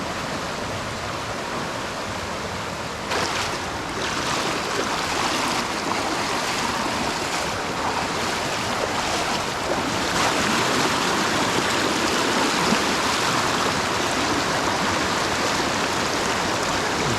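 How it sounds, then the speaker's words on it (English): A flowing river rushes at Tra Ang Cave in Phong Nha, Vietnam, a loud, dense, unbroken roar of churning water that swells slightly in strength, with no speech. "greeted by the rush of a flowing river"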